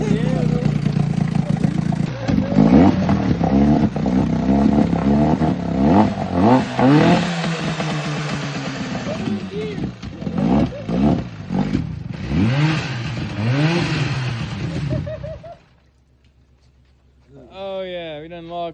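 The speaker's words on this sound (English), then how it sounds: "That what your truck sounds like." Engine revving hard and loudly in repeated surges, close by, with rattling and clatter mixed in, before dropping off near the end; people can be heard talking over it.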